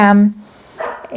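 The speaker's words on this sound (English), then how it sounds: "excuse the dogs barking, it's one of those days." Dogs bark nearby on a public holiday, a short burst of loud barking at the start followed by fainter yips while someone speaks over the top.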